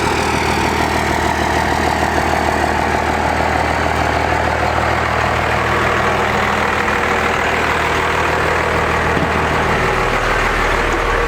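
A second-generation Cummins diesel truck engine idles loudly and steadily up close, a constant low rumble with a dense mechanical clatter and no voices over it.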